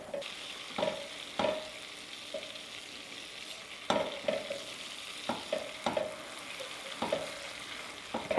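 Butter browning in a pan for a home-made Dubai chocolate filling, giving a low sizzle broken by sharp, irregular scrapes and knocks of a utensil against the pan, quiet and close.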